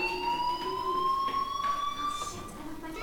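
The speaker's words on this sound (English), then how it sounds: "do you hear that fire alarm?" A fire alarm in Life Is Strange rings as a continuous electronic tone with steady pitched harmonics, moderately loud and alone for the whole span.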